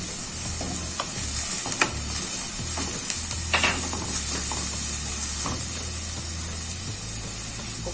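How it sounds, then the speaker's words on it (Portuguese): Onion and garlic fry in a pan with a constant crackling sizzle and scattered pops, close up, a low hum running underneath and occasional utensil clicks. "Acrescenta o alho, quando a cebola já estiver transparente."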